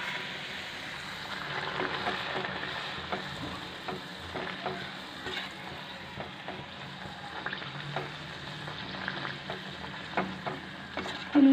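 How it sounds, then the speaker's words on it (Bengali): Steady sizzle of a luchi, a puffed flour flatbread, frying in hot oil, with intermittent bubbling crackles and a few utensil scrapes and taps, no voices. "লুচিটা ভাজা হয়ে গেছে, তুলে নিতে হবে।"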